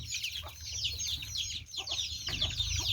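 Backyard chickens being bred on a rural Isan farm cluck and chatter steadily at close range, with overlapping fowl calls throughout over low background rumble.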